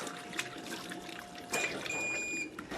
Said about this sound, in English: There comes the water.